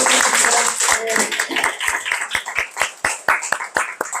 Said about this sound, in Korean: 박수 한번 크게 쳐주시면